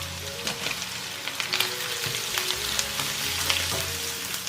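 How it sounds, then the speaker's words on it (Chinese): Eggplant stir-fried in a wok with minced pork, garlic and chili rings, giving a steady, close sizzle with scattered clinks and scrapes of the spatula throughout. "把我们的茄子放进来翻炒"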